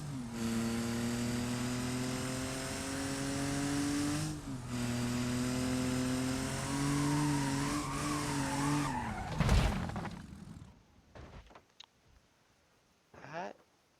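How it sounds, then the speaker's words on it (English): An Ibishu Claria wagon in the BeamNG driving game, engine droning and revving with tires squealing before a sudden crunching crash, then scattered clatter and quieter impacts as it settles. "Let's go ahead and crash this thing"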